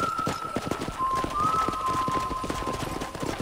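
Rhythmic clip-clop of horse hooves trotting steadily at a quick pace in the video game Red Dead Redemption, close and continuous, with a faint high tone running underneath.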